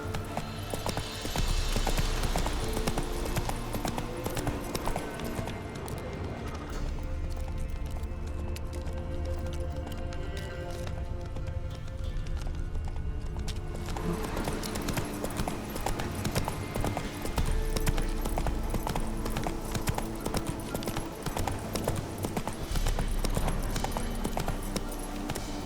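Steady clip-clop of horse hooves at a gallop in The Witcher 3: Wild Hunt, running continuously and fairly loud over game music and ambience, with no speech.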